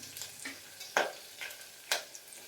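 Curry leaves frying in oil, a soft, faint sizzle with three or four short spatula scrapes spaced about half a second apart.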